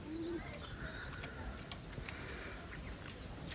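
A female pigeon coos softly, with low soft calls repeating over a faint background hiss and a few brief scattered chirps.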